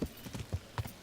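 Horse hooves clip-clopping in the video game Kingdom Come: Deliverance, a quick uneven run of soft thuds at close range with no talk over them.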